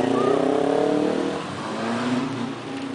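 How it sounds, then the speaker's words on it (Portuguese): A car being driven out of a parking spot at an outdoor automotive event, its mid-pitched engine revving loudly and steadily, then easing slightly, with a crowd murmuring around it. "Vamos ver se ela vai conseguir tirar o carro ali."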